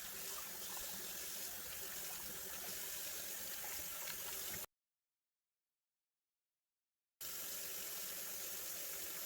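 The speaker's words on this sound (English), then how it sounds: "I'm gonna go ahead and rinse and scrub these other ones with dish soap first." Stovetop drip trays rinsed under a running kitchen tap, a steady loud rush of water that cuts out abruptly for a few seconds, then resumes.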